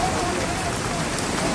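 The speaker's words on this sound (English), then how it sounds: "It's raining again" Steady rain falls on the main road in Roseau, Dominica, in the aftermath of Hurricane Maria, a dense, even hiss of drops on surfaces that stays constant throughout.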